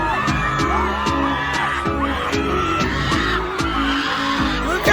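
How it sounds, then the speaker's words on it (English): Loud, sustained shrieking from a fan at Jimin's Dior show during Paris Fashion Week 2025, a piercing high wail layered over busy crowd noise and music, continuous for the whole stretch. "that child is screaming unnecessarily"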